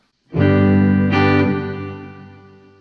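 A distorted electric guitar chord rings out through an Aural Dream reverb with pre-delay turned fully up, a second strum swelling in, then a long washy tail fading away.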